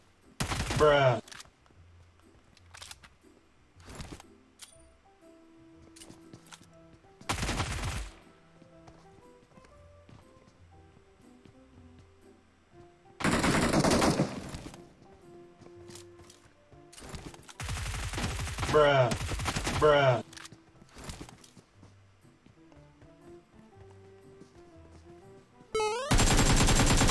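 Bursts of gunfire in a battle royale shooter, several loud volleys of rapid shots separated by quieter stretches of footsteps and ambient game sound, with a player briefly talking.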